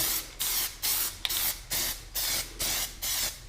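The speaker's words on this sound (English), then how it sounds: "I'm just going to give a little test spray, get the color going" Short bursts of Plasti-Dip spray paint hiss from an aerosol can in a quick, even rhythm, about eight in a row, close by with brief pauses between.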